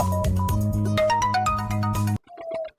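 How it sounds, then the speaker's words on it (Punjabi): A mobile phone rings with an incoming call out by a field near an orchard: a loud, repeating electronic melody plays alone for about two seconds, then cuts off, leaving a fainter tone briefly afterward. "ਇੱਕ ਮਿੰਟ ਬਾਈ ਯਾਰ ਫੋਨ ਆ ਗਿਆ ਯਾਰ"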